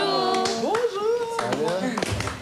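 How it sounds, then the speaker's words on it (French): Students clapping for their director, a few scattered claps popping up beneath overlapping voices that dominate the moment. "Pourquoi vous m'applaudissez?"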